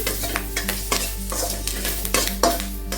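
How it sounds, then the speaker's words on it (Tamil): Curry leaves frying in oil in a pan, a continuous crackling sizzle with quick spatula scrapes and taps against the metal, close and fairly loud over a low hum. "இதில் இந்த கருவேப்பிலையை சேர்த்து வறுத்துக்கணும்"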